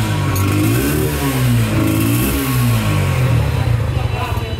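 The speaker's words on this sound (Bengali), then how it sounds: "চলো আমাদের নতুন বাইকের সাউন্ডটা একটু শোনা যাক" A new motorcycle engine revs up and down close by, loud rising and falling roars over a steady idle rumble, with voices faintly present underneath.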